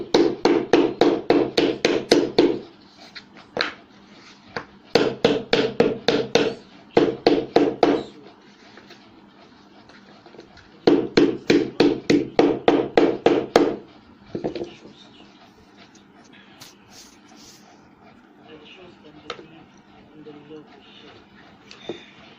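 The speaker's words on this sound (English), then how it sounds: "Get your mallet." A mallet pounds on sandal materials while making Ankara gladiator sandals. Rapid bursts of about eight to ten close, sharp strikes repeat in several groups, with short quiet gaps and a few scattered single knocks between them.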